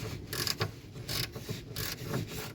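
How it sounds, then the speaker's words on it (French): Someone loosens a hose clamp on a camper van, producing soft, repeated rubbing and ratcheting scrapes in several short bursts, close by with no talking. "Je vais essayer de le desserrer au maximum."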